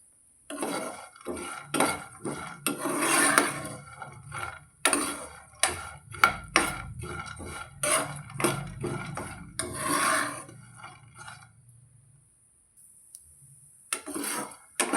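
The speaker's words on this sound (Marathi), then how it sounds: "आता आपली गोडंबी छान भाजली गेलेली आहे" Godambi cashew kernels roasting in a metal pan, stirred with a spatula: busy close scraping, rattling and clinking in irregular bursts, loud, pausing briefly near the end before resuming, no talk.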